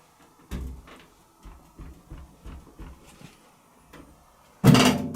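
A cabinet door on an Aziresco that does not close flush is handled and knocked in a series of soft wooden bumps and taps, ending in one loud, close closing thud.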